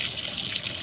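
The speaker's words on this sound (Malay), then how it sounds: "biar dia masuk air" Inside a Sharp 7 kg washing machine with a motor fault, water rushes in steadily during filling, a faint, even hiss and gush lasting under a second.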